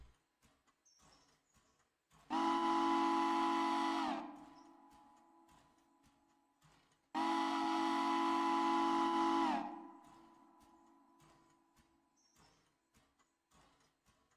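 A steam-style train whistle in the railroad game Railroader sounds in two long loud blasts, each about two seconds, separated by a short pause over quiet background ticking.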